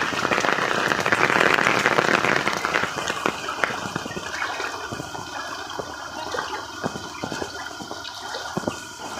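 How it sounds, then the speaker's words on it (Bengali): Heavy rain hisses and splashes steadily over floodwater in Bhogpur, Panskura, a dense rushing of water loudest at first, then continuing with scattered sharp drips and patters. "কোনো বৃষ্টি কমারই নাম নেই"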